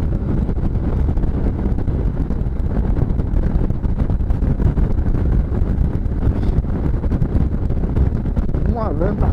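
Strong wind buffets the microphone high on the Verrazano Bridge, a loud, constant low roar with traffic rumble beneath it and a voice speaking briefly near the end.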